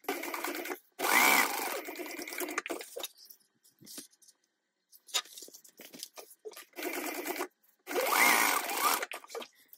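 Sewing machine stitching a tote bag seam in several close, loud bursts of rapid whirring, separated by short pauses and quieter handling noises.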